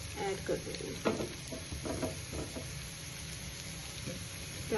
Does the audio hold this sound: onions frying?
yes